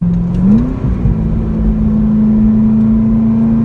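A Chevrolet Corvette ZR1 from 2017 drives on twisty roads, its engine note rising in pitch as it revs and then holding a steady, loud drone close by, with no voices over it.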